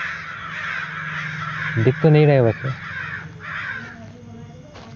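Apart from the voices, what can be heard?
crows cawing in the horror video game Sinister Edge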